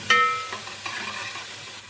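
Chopped capsicum and cabbage being stirred in a pot for soup, a brief close scrape and clatter followed by soft sizzling.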